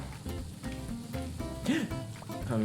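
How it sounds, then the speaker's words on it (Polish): Food sizzles and fries in the cooking video game Overcooked as a constant crackling hiss under game music and effects, with a brief rising and falling tone in the middle. "Jedno się piecze drugie się smaży, a trzecie będzie się grillować."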